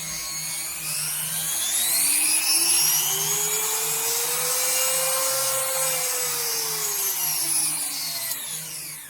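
A small rotary tool whirs steadily at low speed, a high thin whine that rises slightly then settles, running alone without voices.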